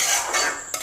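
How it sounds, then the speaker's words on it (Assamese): A utensil stirs tomatoes in a pot of curry, a brief scraping, clinking stir against the metal with a small knock near the end, close and alone. "উতল অহাত মই এতিয়া বিলাহীখিনি ঢালি দিম। দি অলপমান লৰাই"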